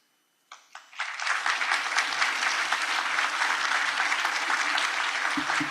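An audience at an annual conference awards ceremony breaks into applause, a couple of early claps leading into sustained, dense clapping from a large crowd that continues steadily to the end.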